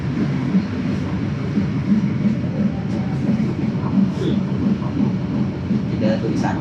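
Steady low rumble of a train at Semarang Tawang station platform, heard from inside a moving carriage at night with a continuous hum and faint clatter, no talk.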